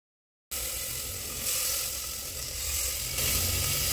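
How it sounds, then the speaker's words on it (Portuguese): Sardines placed in a pressure cooker for sardines in sauce, a dense continuous sizzling hiss that starts abruptly after a moment of silence and swells slightly in steps, with no talking. "Coloco aqui a sardinha aqui na panela com um jeito"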